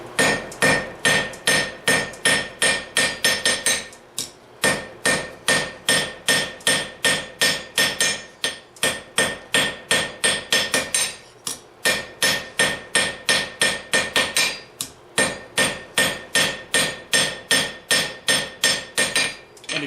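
Blacksmith's hand hammer striking hot steel on an anvil while forging a hook, a loud, rapid, steady rhythm of ringing blows in several bursts separated by brief pauses.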